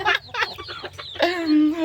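A hen clucks and chatters close by in a series of uneven, rapid calls that end in a drawn-out, wavering cackle.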